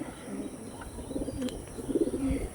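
Pigeons with yellow eye rings coo softly in a group, gentle low warbling calls rising and falling over a quiet background, with no voices.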